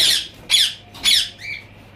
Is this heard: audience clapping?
no